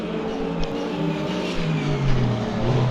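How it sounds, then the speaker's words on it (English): A GT3 race car in Le Mans Ultimate during a 24 Hours of Le Mans race, engine roaring loud and steady with a rising, shifting drone as it passes through. "It's one of the GT3s coming around at Indianapolis"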